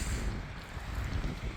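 Strong wind on a black sand beach near cliffs in Iceland roars and buffets the microphone continuously, a low rumbling gusty noise with no voices.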